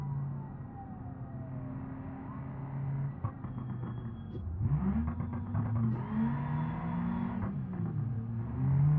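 A Kia wagon drives along and accelerates. Its engine note climbs and falls in steady revving swells over a constant road and cabin rumble, heard up close with no talking.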